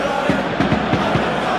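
Stadium crowd noise from a realistic football video game simulation of a PSG versus Lyon Ligue 1 match, loud and continuous, with rhythmic swells of cheering and chanting pulsing through the roar.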